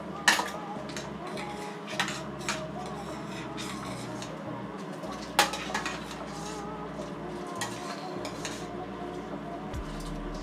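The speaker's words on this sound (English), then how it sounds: "I'm going to stir my pasta." A utensil clinks and scrapes against a pot while pasta is stirred: scattered metallic taps at irregular intervals over a low, steady kitchen hum, with no talking.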